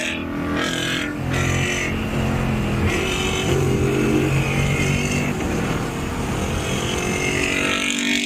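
A Ford Mustang S650 with a new hood revving loudly nearby, a continuous heavy engine roar that rises and falls throughout.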